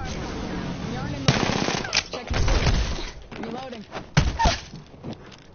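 Bursts of automatic gunfire from Apex Legends gameplay, several rapid volleys with sharp loud onsets separated by short pauses, over a continuous bed of game sound effects.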